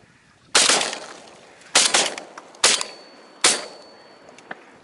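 Shotgun blasts during a duck hunt over decoys with dogs: four loud sharp shots spaced about a second apart, each with a short echoing decay across open ground.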